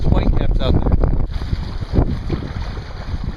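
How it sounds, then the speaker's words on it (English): Strong wind of 15–25 mph buffets the microphone on open water whipped into whitecaps, a loud continuous roar with gusty rumble while a person fishes for bass on the Central Coast. "it's probably really windy, a lot of shear"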